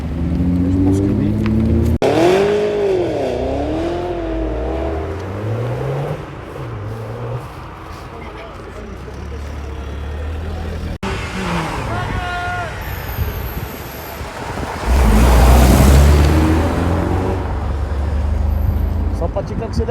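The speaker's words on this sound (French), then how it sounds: "Sympathique accélération. Un beau petit RS6 juste derrière pour compléter." Cars accelerate along a Paris street, with an Audi RS6 following, engines rising and falling in pitch as they pass near and loud amid traffic noise, while a person talks over them.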